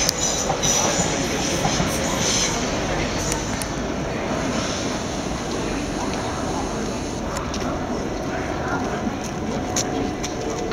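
A Southern train rolling into a platform at Clapham Junction station, a steady loud rumble of wheels and carriages with faint squeals, continuous throughout.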